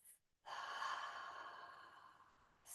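A single long mouth exhale during yoga breathing practice, a steady airy rush lasting about two seconds after a brief pause, close and fairly quiet, with a faint intake at the very end.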